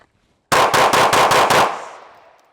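A handgun fires six rapid shots in an even, fast rhythm during a Bill Drill, loud and close, with the echo trailing off for about a second afterward. No one speaks.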